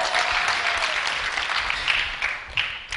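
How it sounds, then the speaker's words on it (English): A conference audience at 140conf in New York in 2012 gives a round of applause, a dense, steady wash of many hands clapping with a few louder claps near the end. "round of applause"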